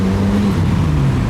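Modified car rolling past at a car meet, a brief close engine rumble with a low steady drone and slight shift in pitch as it goes by.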